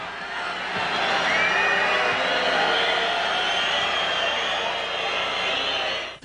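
A large Venezuelan stadium crowd booing the Brazilian national team at the Copa América, a loud sustained roar of jeers filling the whole stretch before cutting off.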